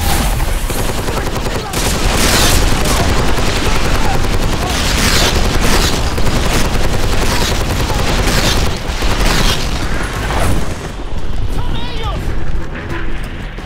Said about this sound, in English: the barrage of fire destroying the world all around you